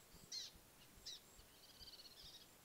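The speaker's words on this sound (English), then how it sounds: "There's so many birds up in the trees." Birds in trees beside a mountain lake give a few faint, scattered chirps and short trills, spaced apart over a quiet background.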